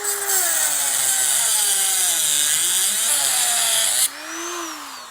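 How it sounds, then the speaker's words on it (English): A Dremel rotary tool with a metal cutting blade carves a slot into a Honda GCV160 carburetor, a loud steady high whine with wavering pitch for about four seconds, then dropping to a lighter spin-down. "I have my trusty Dremel. I have a metal cutting blade up on the top"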